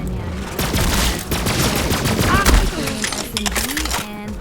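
Rapid gunfire from a weapon in the Borderlands shooter crackles in dense bursts throughout, mixed with impact effects and game sounds, while a voice talks over it.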